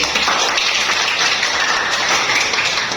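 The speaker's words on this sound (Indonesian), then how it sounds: "Tepuk tangan dulu." A classroom of students claps hands together during a church history lesson, a dense, steady patter of many hands filling the room at close range.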